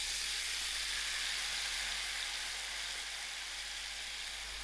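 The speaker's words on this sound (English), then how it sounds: "I will keep stirring my peppers and mushrooms till it starts to fry." Marinated pepper and mushrooms frying in a little butter in a pan, a constant close hiss of sizzling that stays even and loud throughout, no voices.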